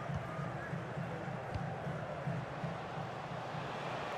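A virtual stadium crowd in a PS5 football game of the Indian Super League, Mumbai City FC against Mohun Bagan Super Giants, roars and murmurs as a steady wash of broad noise while a commentator speaks over it.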